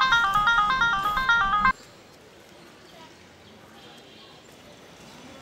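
A phone rings with a rapid repeating electronic tone for under two seconds, then cuts off, leaving a quiet indoor room.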